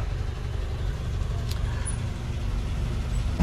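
Road traffic of cars and two-wheelers passes at moderate distance, a steady low engine rumble with a brief brake hiss, heard from within the jam.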